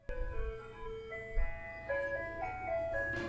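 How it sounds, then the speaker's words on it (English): An ice cream truck plays its jingle, a simple chiming melody drifting in from a distance with a low engine rumble underneath, growing a little louder as it passes. "Ooh, ice cream truck."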